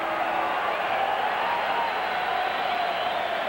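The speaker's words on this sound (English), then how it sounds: "This is the German crowd here that is chanting and making the raucous noises" A German crowd at a boxing world title fight chants and roars between rounds. The noise is a loud, continuous wall of massed voices with no break.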